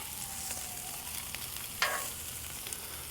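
Beef and onions sizzle steadily on a hot griddle, a continuous close frying hiss with a brief scraping burst partway through and no talking.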